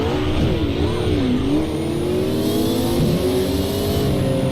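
Race car engine in a racing video game, holding a loud, continuous high-pitched whine that rises and dips with gear changes and throttle, close and alone throughout.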